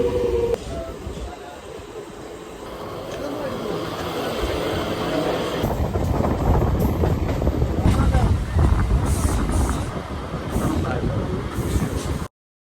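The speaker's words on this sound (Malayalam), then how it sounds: "നമുക്ക് പോകേണ്ട മെമു വന്നിട്ടുണ്ട്." A MEMU train at Kochuveli railway station in Kerala, with a low rumble and rolling noise that builds and stays steady at close range. Platform voices run underneath the train noise.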